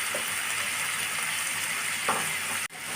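A masala paste with garlic paste, bay leaf and dried red chillies frying in oil for a spicy meat dish, a constant dense sizzle with faint scraping and a brief clunk near the end, no talk.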